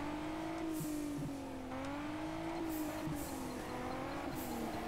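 Car tires squealing in the Juiced 2 racing game as a car spins out, a steady engine drone with a wavering squeal running throughout, loud and continuous with no talk over it.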